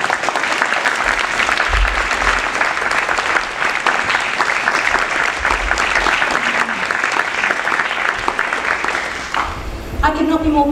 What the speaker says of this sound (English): I really think that deserves a round of applause.